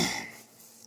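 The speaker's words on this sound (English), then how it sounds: "I can't stop clearing my throat." A brief throat clear from a home baker in a kitchen while shaping sourdough, one short rough burst that drops away quickly into quiet room tone.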